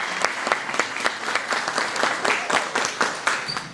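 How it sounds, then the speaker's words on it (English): Lively applause from an audience at a live event for two models, with strong, rhythmic clapping that stays loud and steady throughout, with no one speaking over it. "Let's give our two models a big, big round of applause."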